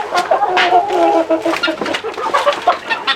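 Chickens cluck and squawk steadily at close range for a few seconds in a busy coop, several birds calling over one another with no talk.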